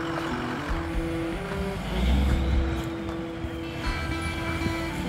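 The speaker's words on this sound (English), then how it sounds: "now they're moving the trailer to get in a better position" Truck engine idling and revving while it maneuvers a container trailer into position, a low steady rumble with a rising swell midway and faint distant machinery behind it.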